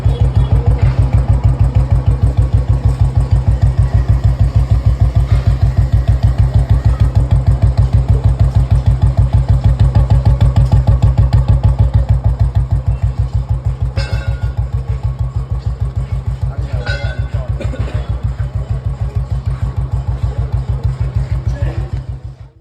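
Royal Enfield Bullet 350 motorcycle, fresh engine oil just added during a restoration, starts and settles into a steady, loud single-cylinder thump at idle, the even beat running unbroken until it cuts off at the end.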